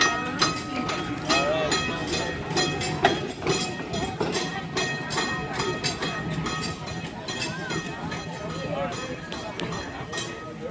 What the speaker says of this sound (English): This streetcar's gonna go.